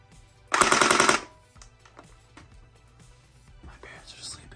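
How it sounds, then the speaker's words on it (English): An SRB 1200 Splat R Ball gel blaster fires a short full-auto burst, a loud rapid rattle of shots lasting about half a second, followed by quieter handling clicks and faint whispering. "And here's what it sounds like."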